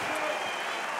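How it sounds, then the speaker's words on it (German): Fans at an OKTAGON 34 MMA fight applaud loudly in a thick, steady wash of clapping and crowd noise with no break. "Und das wird natürlich auch von den Fans mit tosendem Applaus belohnt."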